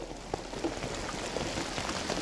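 Steady rain patters outdoors during a slip bobber bass fishing outing in Colorado, a continuous soft hiss with faint scattered drops and no talking.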